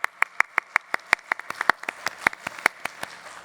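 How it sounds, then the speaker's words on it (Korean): A church congregation claps to welcome a first-time visitor, with a steady run of crisp, evenly spaced hand claps from a small group, fairly close and with no voices over it. "우리 박수로 환영하겠습니다"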